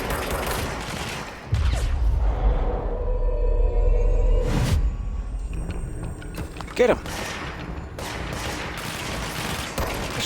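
Bursts of gunfire and booming impacts in the video game Control ring out, rapid shots with whooshing effects and a sharp blast midway, while a voice shouts briefly over the fight.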